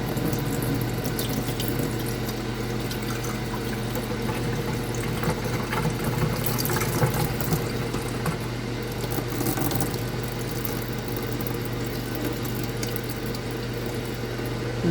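A kitchen sink tap runs in a steady stream while something is rinsed and drained. The rushing water stays even and close for the whole stretch, with no talking.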